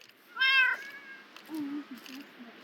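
Cat meowing in the Minecraft video game: one clear, fairly loud meow near the start, followed by softer, lower chirping mews with no talking.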